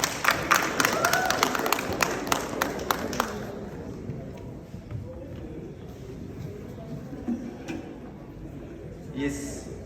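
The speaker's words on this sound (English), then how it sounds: "Can we please give him a round of applause?" A conference audience claps for a medical advisor taking the stage, a burst of sharp applause in the first few seconds that quickly dies away into room noise, with a voice talking afterward.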